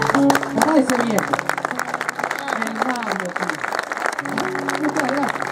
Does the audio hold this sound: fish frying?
no